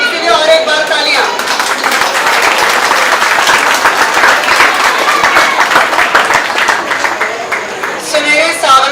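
An audience applauds during a Mangalagauri Khel event, brisk dense clapping held steady throughout, with voices heard faintly near the start and end.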